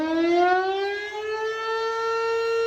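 The loud sundown civil defense siren of Minden, Nevada wails steadily, its tone rising slightly and holding in a long sustained drone with no voices.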